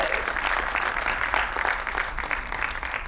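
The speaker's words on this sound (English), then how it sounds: "So please, a big round of applause for ma'am as well" Dense, steady clapping from a school annual day audience, loud and sustained throughout with no break and no distinct voices.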